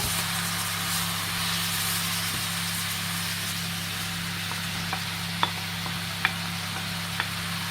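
Onions and carrots fry in a pan with a steady, broad sizzle under a low constant hum, broken near the end by a few sharp taps and clinks of a utensil against the pan.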